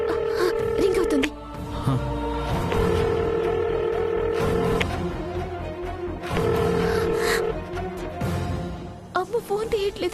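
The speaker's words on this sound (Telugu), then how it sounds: "రింగ్ అవుతుంది." A phone call's ringback tone repeats in steady bursts with pauses between them, heard under background music in a Telugu TV serial scene.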